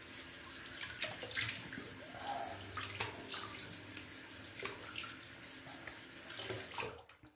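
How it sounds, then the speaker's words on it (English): Cold tap water runs into a sink while a face is rinsed after a shave, a continuous close splashing with uneven bursts of louder spatter, quiet overall, cutting off abruptly at the end. "Let me rinse with some fresh cold water."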